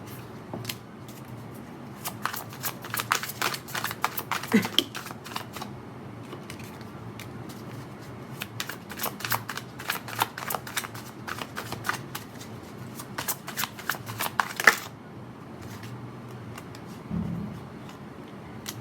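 Tarot cards being shuffled by hand, a long run of quick papery riffles and flicks in uneven bursts, close and fairly quiet, with no talk.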